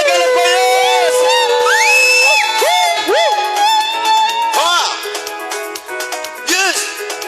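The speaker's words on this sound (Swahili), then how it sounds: "Simba piga shangwe na vigelegele kwa Yesu." A praise worship crowd cheers and ululates in celebration, with loud, high warbling trills and whoops rising and falling over continuous music, sustained throughout.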